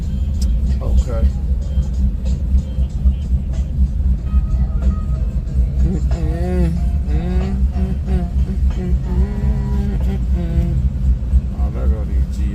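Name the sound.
Pontiac G8 and Chevy cars street racing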